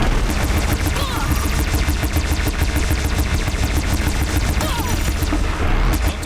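Rapid, steady cannon fire from a mounted turret in Horizon Zero Dawn, a dense run of loud repeated blasts over about six seconds that barely lets up, with some crashing impacts mixed in.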